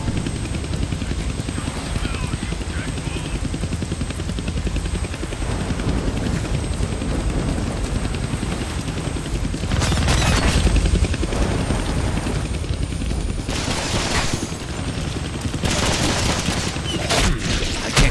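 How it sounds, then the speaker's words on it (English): A helicopter flies in the PlayStation 3 game Deadpool, a loud continuous rotor roar heard close throughout, with bursts of gunfire and impacts breaking through over it. "They found the helicopter's on switch."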